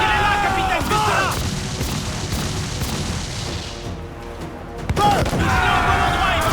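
Ship cannons fire in a naval battle in the game Assassin's Creed IV Black Flag, a series of heavy booms over a loud battle din with sweeping whistles, while a crewman shouts.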